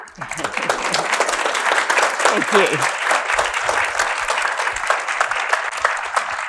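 Sustained audience applause for keynote speakers at an albatross conservation agreement conference, dense and steady throughout, with a voice briefly speaking over it.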